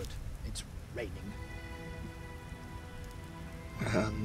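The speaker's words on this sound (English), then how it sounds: "It's raining." Rain falls steadily on surfaces in The Witcher game world, a soft even patter with faint rustling and a brief brighter swell near the end.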